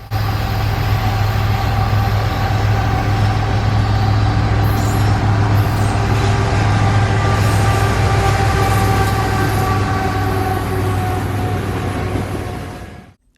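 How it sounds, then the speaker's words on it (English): CN 3115, the BC Rail Heritage Unit locomotive, passes with a loud, steady diesel drone and rolling rail noise that holds throughout before cutting off abruptly. "here we have CN 3115, the BC Rail Heritage Unit."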